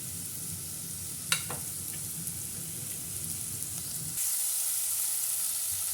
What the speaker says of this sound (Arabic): غادي نوضع فيها زيت الزيتون، وغادي نوضع البصله اللي شلضنا